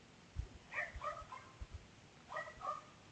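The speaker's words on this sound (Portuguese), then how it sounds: "é vizinho mudando, é cachorro latindo" A neighbour's dog barks at a distance in a few brief, scattered bursts with gaps between them, faint against a quiet room.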